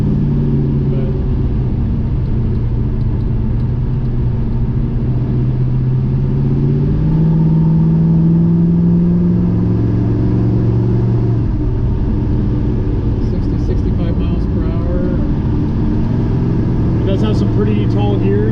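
A 1971 Chevrolet Chevelle clone's 350 small block V8 drones and whines steadily at highway speed with tall gearing, a constant low cabin rumble with faint road noise, while people talk over it.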